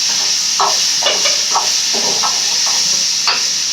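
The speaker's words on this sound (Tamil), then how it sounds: "சிக்கனுக்கு வந்து தக்காளி போட்டு வதக்கணும்" Tomatoes sauté in a kadai for chicken gravy: a close, steady hiss of frying with a few brief stirring scrapes.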